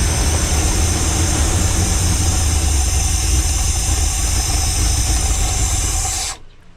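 A car engine fitted with a two-barrel carburetor runs rough and loud, a constant droning roar with hiss for several seconds before it cuts off abruptly, leaving near silence.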